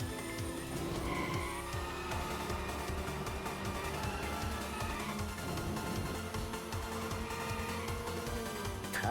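A mostly stock Mazda RX-7 drifting through corners in the Initial D Arcade Stage 8 Infinity arcade racing game, with sustained tire squeal and a droning engine that runs steadily over the game's music for about nine seconds.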